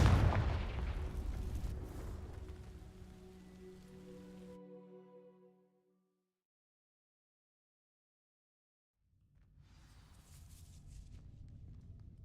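A Confringo fire spell blasts into dry vines in Hogwarts Legacy, a loud crackling, rumbling burst that rings out and fades over several seconds into silence, followed by a softer rumble of game ambience.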